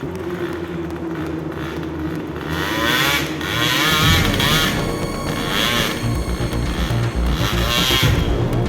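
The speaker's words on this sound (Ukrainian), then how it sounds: "Хлопці джміликами газують, двохтакними." Several small two-stroke dirt bike engines rev loudly and repeatedly nearby, their high buzzing pitch rising and falling in overlapping bursts.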